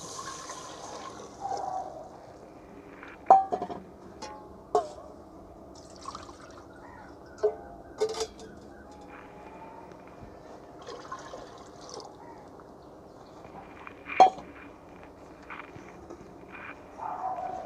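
Water is poured into a cooking pot over fried masala, heard as soft trickling and splashes with scattered louder clinks of the pot, fairly quiet overall.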